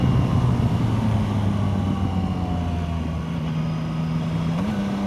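Yamaha Tracer 9 GT+ motorcycle engine humming steadily under rider wind noise, the tone easing and shifting slightly as it slows and drops a gear, loud and close with no clear separate gear clicks.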